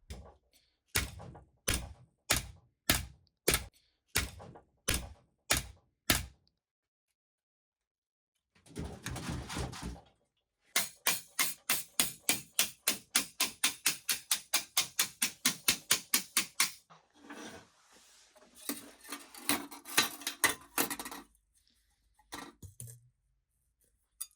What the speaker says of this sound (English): I put the Billfodl into a vise and started hitting it with a hammer